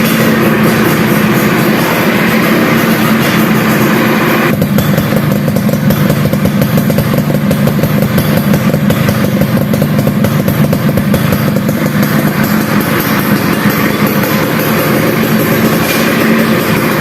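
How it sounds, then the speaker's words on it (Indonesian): A Yamaha F1ZR motorcycle engine starts and runs steadily and loudly throughout, with a brief shift in tone early on before settling into a constant drone. "di akhir video saya akan mencoba sepil suara motor ini"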